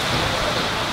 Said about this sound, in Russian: Дождь льет.